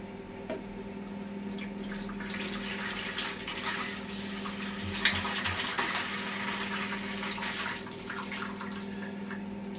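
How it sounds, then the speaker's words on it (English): Coffee wine must pours from a glass jar into a 2 gallon plastic bin, a steady trickling and splashing of liquid lasting several seconds over a constant low hum, with no one speaking. "we need now to pour this content of the jar into the 2 gallon bin"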